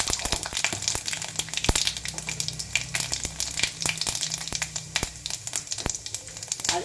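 Panch phoron, the Bengali five-spice mix, crackling in hot oil over lowered heat, a close, busy stream of sharp pops and spits above a low sizzle, with no voices.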